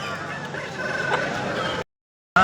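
A rooster at the Peeleru weekly Sunday poultry market calls amid a dense, noisy crowd of fowl. The din holds steady, drops to silence briefly, then returns loudly at the end.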